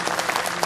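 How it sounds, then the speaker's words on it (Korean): An audience at a Korean awards ceremony for the Lions volunteer prize claps for an honoree, a brief, even patter of many hands. "뜨거운 박수 부탁드립니다."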